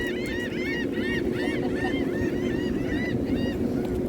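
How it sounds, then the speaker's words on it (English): Seagulls call repeatedly at a wastewater plant in Atlantic City, a string of nasal, wavering cries rising over constant loud machinery and water noise. "And seagulls are having a good time."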